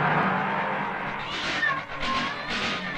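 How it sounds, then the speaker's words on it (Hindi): A black cat meows in drawn-out wavering cries, close and clear over a steady background hum, with a couple of rising calls toward the end. "काली बिल्ली रास्ता काट गई."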